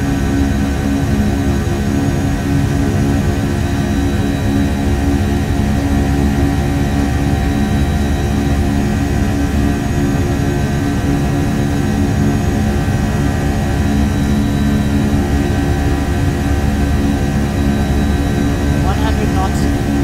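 EgyptAir A320 engines spooling at takeoff power in the Prepar3D V3 flight simulator departing Cairo: a constant loud jet roar with steady tonal whine, even and unbroken throughout.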